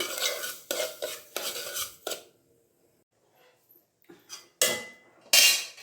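Semolina (rava) for upma dry-roasting in a hot pan, a spoon scraping and stirring it in close, loud bursts with a quiet pause in the middle, no voices.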